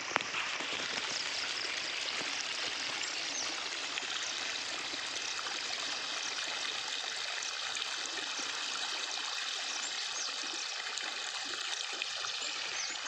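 Floodwater after heavy rain flows steadily, a continuous broadband rushing wash with no breaks.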